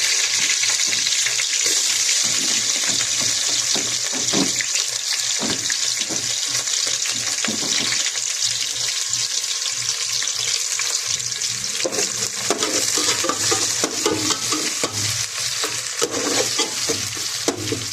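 Onions frying in hot oil while a spatula stirs them for chicken curry, a continuous loud sizzle broken by repeated scraping strokes against the pan, close up with no talking.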